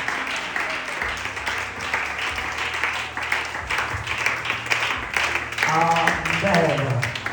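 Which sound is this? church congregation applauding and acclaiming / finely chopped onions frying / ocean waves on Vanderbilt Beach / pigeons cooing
church congregation applauding and acclaiming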